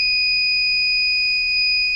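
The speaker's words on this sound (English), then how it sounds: "Can you hear the buzzer? It's very loud here in Australia." A loud electronic buzzer alarm from a classroom coding kit sounds as a continuous, piercing, steady high tone held for two seconds without a break, close and alone with no voices.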